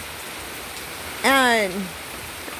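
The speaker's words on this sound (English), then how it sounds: "it's because I'm looking at all the rain" Rain falls steadily over a garden, a constant soft hiss running evenly throughout, with a person briefly speaking partway through.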